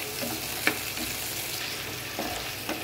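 A cup of onion lightly fries over medium heat for beef kofta curry, giving an even close sizzle with a few sharp clicks of a spatula against the pan and no one talking.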